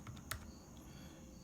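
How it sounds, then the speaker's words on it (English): Quick keypresses on a calculator, a few faint clicks close to the microphone over a quiet background hiss. "typing these into my calculator just to make sure"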